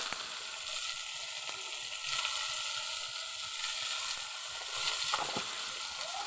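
Cabbage seasoned with turmeric and salt sizzles steadily in a frying pan, with a continuous close hiss and occasional soft scraping of a stirring utensil, no voices.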